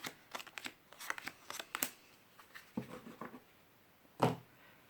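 Oracle cards are shuffled for a reading in soft, quick riffling bursts and taps, close but quiet, ending with one sharper slap as a card is laid down.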